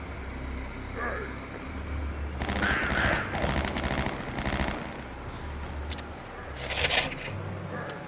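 Bursts of rapid gunfire from a weapon in the video game Killing Time: Resurrected, sounding as loud, clustered rattling shots over a steady game soundtrack.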